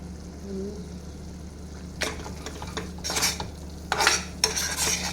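Ground coriander, cumin powder and Kashmiri red chilli powder for chole masala get stirred in a pan, with a few short scraping and clinking bursts over a quiet background hum.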